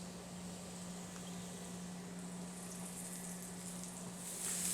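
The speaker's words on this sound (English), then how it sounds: "That sizzling you hear is called the applause, and will stop when they're ready." Sliced mushrooms sizzle in hot oil in a pan that still holds browned fond from seared steak: a steady, quiet, even hiss with no talking.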